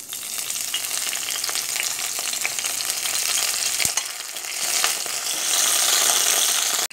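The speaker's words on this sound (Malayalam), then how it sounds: "ഇനി നമുക്ക് കറിവേപ്പില ഇട്ട് കൊടുക്കാം." Curry leaves sizzle and fry in hot oil in a pan while preparing squid masala, a steady loud crackling hiss with stirring and a sharp clack midway, close up.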